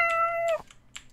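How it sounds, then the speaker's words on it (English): Several short meows from a cat in a video game, loud and close, one sustained call followed by a couple of quick quieter mews, alone without speech. "those are some mighty meows you got going"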